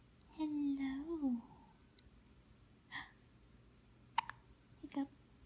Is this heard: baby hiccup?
yes